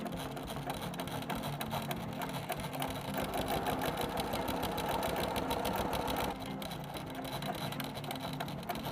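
A sewing machine run on manual mode with a foot pedal stitches closely around an appliqué design on athletic wear, a steady rapid mechanical whir with dense needle clatter, speeding up slightly midway then easing back, close and continuous with no talking.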